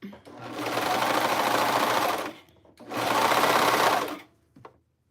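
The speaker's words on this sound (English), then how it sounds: "I'm gonna sew a little more before I try to tie that." A sewing machine stitches a basic tee in two sustained bursts of steady whirring, each about two seconds long, separated by a short pause and followed by a brief click, close and loud.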